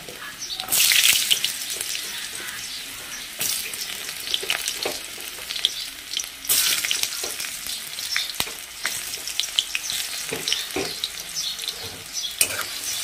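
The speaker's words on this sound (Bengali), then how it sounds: "চলো 5 ফোড়ন দিয়ে দিলাম।" Five-spice seeds (panch phoron) crackle and sizzle in hot oil in a pan with stirring scrapes, a steady close frying hiss throughout with louder bursts.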